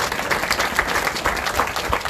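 Dense, steady applause from a crowd at a historical marker ceremony honoring a 1950 high school class protest, many hands clapping at once, fairly close and sustained throughout with no talking.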